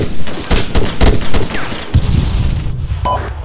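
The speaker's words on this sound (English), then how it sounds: "Taking fire on the Super Alamo." Rapid bursts of rifle and machine-gun fire crack in an Arma firefight on the Chernarus map, sharp repeated shots, some near and some more distant, with brief radio-style talk mixed in.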